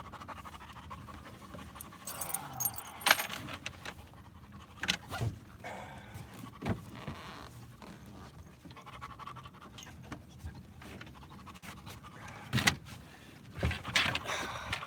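Dog panting close by in rapid, uneven breaths, with scattered scratching and bumps around it.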